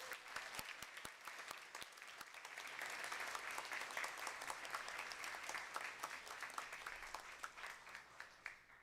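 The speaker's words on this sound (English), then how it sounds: "So can we give our 24, 25 honorees another round of applause," Audience at a Collingswood school board meeting applauds a group of honorees, starting with a few scattered claps that swell into sustained, fairly distant applause.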